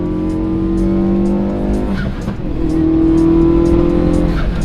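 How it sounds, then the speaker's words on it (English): A turbocharged car engine drones loudly from inside the cabin on a long drive, with a steady rising and falling turbo whine and a brief dip in the middle. "The turbo sound is so loud, it makes so many cool noises on the inside."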